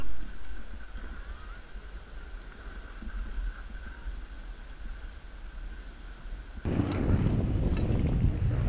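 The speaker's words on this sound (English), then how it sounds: "It was super windy up on the hill, probably like 40 or 50 kilometer-hour winds" Low, rumbling wind, around 40 to 50 km/h on a hilltop, buffeting a GoPro 7 microphone on a pole, moderate at first and then sharply louder and gustier for the last couple of seconds.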